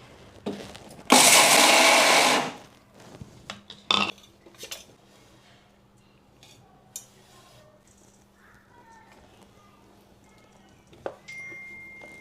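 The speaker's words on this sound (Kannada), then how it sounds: "ಶೇಂಗಾ ಜಾಸ್ತಿ ಗ್ರೈಂಡ್ ಮಾಡ್ಕೋಬಾರ್ದ್ರಿ." An electric mixer grinder whirs loud and close for a couple of seconds as it grinds peanuts for jaggery karjikai filling, followed by quieter clinks and taps of the jar and utensils.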